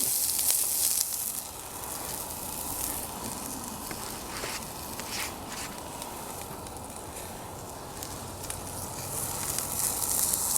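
Diced onion sizzles steadily in a hot pan for smothered green beans, a continuous close crackling hiss with occasional sharper pops and no talking.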